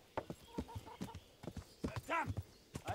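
Rapid hoofbeats of a galloping horse in Kingdom Come Deliverance, sharp uneven thuds with a snort or whinny-like tone partway through, fairly quiet with no talking.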